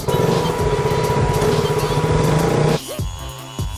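Traffic on a road streams past for most of the stretch, a loud steady engine and tyre rush, then cuts off abruptly near the end, leaving quieter street ambience with a brief rise at the close.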